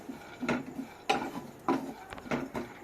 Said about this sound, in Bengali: এবার নাড়াচাড়া করে নিচ্ছি। এটাকে খুব ভালো করে ভেজে নিতে হবে, হালকা আঁচে ভেজে নিতে হবে।